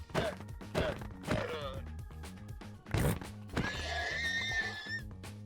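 Horses and llamas in Minecraft give several loud whinnies and neighs amid clip-clop hoof sounds and thwacks, a long, wavering neigh closing the sequence.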